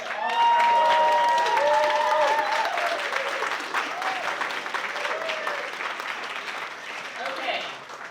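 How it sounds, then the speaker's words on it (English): Applause with some cheering from the audience at the 2024 Vic Chesnutt Songwriter of the Year Awards, loud at first and then fading, with a voice speaking over it. "let's give another round of applause to all of"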